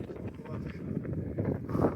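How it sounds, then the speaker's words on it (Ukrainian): Wind buffets the microphone in low, gusty rumbles while fishing for perch and carp, close and fairly loud, with faint water and boat sounds beneath. "У нас вітер."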